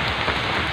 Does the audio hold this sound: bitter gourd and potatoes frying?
no